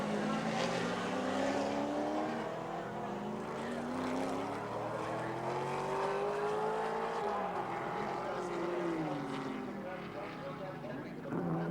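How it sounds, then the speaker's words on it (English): Touring race cars at Symmons Plains, Tasmania, in 1984 drone past at the end of the straight, their engines a continuous rising and falling whine under steady commentary. "This is Grice and Richards, end of the straight."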